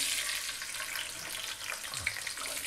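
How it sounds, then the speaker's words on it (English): Green beans fry in two to three centimetres of hot sunflower oil, giving a steady, close, broadband hiss and crackle that holds evenly without any voices. "We're gonna drop in"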